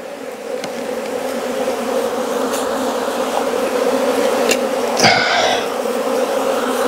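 Honey bees swarm and buzz around an opened hive during an inspection after almond pollination, a dense, steady drone with a brief clatter of equipment partway through.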